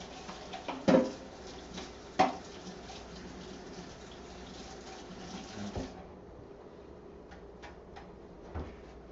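A kitchen knife blade is rinsed under a running tap while preparing a spatchcock chicken, with steady water flow and a few sharp clanks of metal against the sink before the water stops and faint clatter follows.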